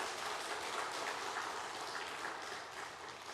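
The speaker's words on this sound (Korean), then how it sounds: "박수 한번 해줘요, 박수" A church congregation claps during a sermon, a faint, dense patter of many hands that sounds distant and soft, like a rustling wash, fading slightly near the end.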